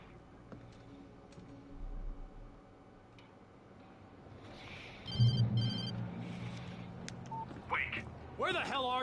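A telephone rings in the video game Alan Wake Remastered, a faint ring in the middle of the stretch under in-game dialogue and a commentator's voice.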